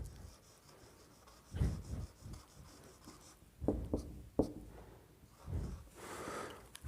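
Marker or chalk strokes on a board scratch out in short irregular bursts, close and fairly quiet, with pauses between words being written and no talking.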